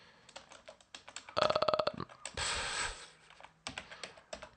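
A command is typed on a computer keyboard, with quick bursts of close, crisp key clicks broken by short pauses and a brief rushing noise in the middle.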